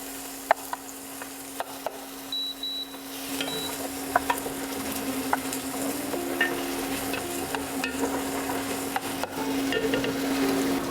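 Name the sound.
onions and garlic sautéing in a pan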